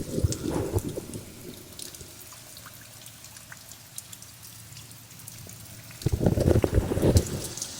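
Rain falling outside a sandstone rock overhang at Pickle Springs, heard from shelter as a steady soft patter and drip, with heavier splashing bursts at the start and near the end.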